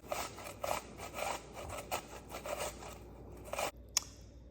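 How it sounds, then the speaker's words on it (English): A cucumber is grated on a grater in quick, rhythmic rasping strokes, about a dozen close scrapes in a row that stop abruptly near the end, followed by a single small clink. "I'm just gonna take and grate my cucumber"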